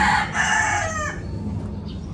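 Chickens on a poultry farm give a loud, close rooster crow that stretches through the first second, then fade into a quieter background of clucking and barn noise.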